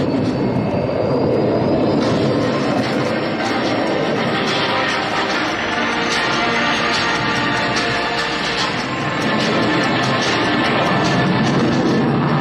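A Sukhoi fighter jet performs at the Aero India 2023 air show in Bengaluru, its engines giving a loud, continuous roaring thunder that holds steady throughout, with no talk over it.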